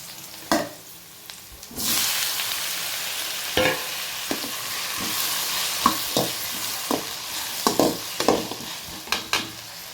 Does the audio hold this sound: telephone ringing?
no